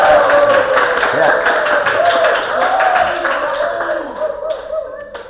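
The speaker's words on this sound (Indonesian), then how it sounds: "Terima kasih, tepuk tangan semua." A classroom of students claps after a poem recital, a steady patter of hand claps that fades toward the end, mixed with voices talking over it.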